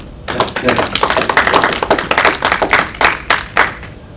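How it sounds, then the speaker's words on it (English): Audience applause at a university lecture event, a dense burst of hand clapping that fills the room loudly and steadily for about four seconds with no speech over it. "Let's give a round of applause."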